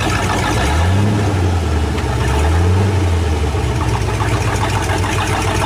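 A 1930 Ford Coupe engine idles roughly on a loping cam, a loud, steady rumble with a lumpy, uneven pulse, heard close with no talk.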